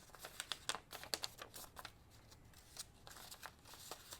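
A piece of collage paper handled and shuffled for a paper butterfly collage, with soft close crinkles and rustles in irregular bursts, fairly quiet with no speech.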